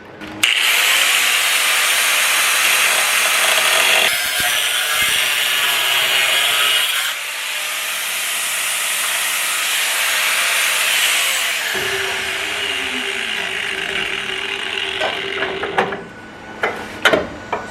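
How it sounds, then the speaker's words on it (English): A power tool's cutting disc whines loudly and continuously, grinding through metal with shifting pitch, then a few sharp clatters near the end. "Actually put on my cutting disc."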